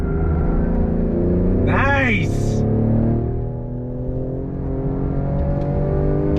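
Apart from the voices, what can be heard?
Ford Explorer ST accelerating on full throttle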